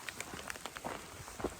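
Rain patters on a hiker's rain gear along the Pacific Crest Trail, a soft, irregular scatter of close drops tapping against fabric, faint and steady with no voices.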